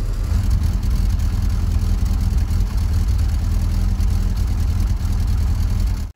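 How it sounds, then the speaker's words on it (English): A Ford XR3i engine idles lumpily, a steady loud low rumble with a slightly uneven pulse that runs the whole time and cuts off abruptly at the end. "The XR3i is running a bit lumpy."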